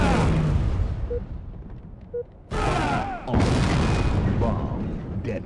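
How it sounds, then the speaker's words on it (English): A bomb detonates in the Halo Grifball video game with heavy, booming blasts: a rumbling roar, a brief drop, then two loud explosive surges that fade out slowly. "Bomb detonated. Game over."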